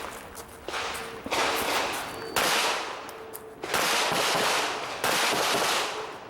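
Pistol shots at targets during an outdoor IDPA shooting match at Mecklenburg Wildlife Club: five or six loud, sharp reports at uneven intervals, each trailing into a long echoing decay.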